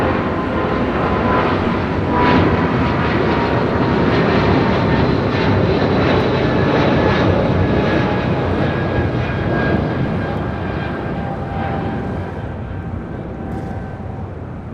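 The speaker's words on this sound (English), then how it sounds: "That was United Airlines flight 2096 heading to Newark in that 777-200ER." A United Airlines Boeing 777-200ER jet bound for Newark, passing at Los Angeles International Airport with a loud, sustained engine roar that holds steady and then eases slightly toward the end.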